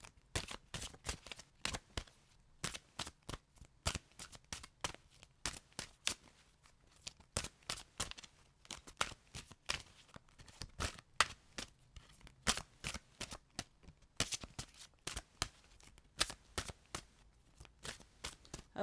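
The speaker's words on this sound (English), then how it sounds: "as I shuffle the cards" Tarot cards are shuffled close up, a fast run of crisp riffling flicks and soft slaps repeating in quick irregular bursts for a long stretch, quiet and alone without speech.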